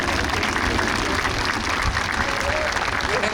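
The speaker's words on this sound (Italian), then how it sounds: "è tempo di far arrivare fin lassù il vostro applauso al maggiore Federico De Cecco" A large outdoor crowd at the Jesolo air show applauds the Frecce Tricolori solo pilot, a steady, dense wash of clapping throughout with no pauses.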